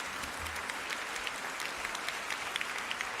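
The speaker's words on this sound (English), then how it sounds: "A warm round of applause for that finish." Steady applause from a debate audience after a speaker finishes in a playoff round on raising Nigeria's drinking age, a dense wash of many hands clapping throughout at moderate, even loudness.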